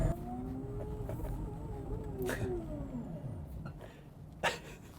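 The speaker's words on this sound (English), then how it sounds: "there's an electrical kind of whine" Electric motor whine from a classic Mini converted to electric drive, a thin tonal whine that rises and falls in pitch over road and cabin rumble, with a short thump near the end.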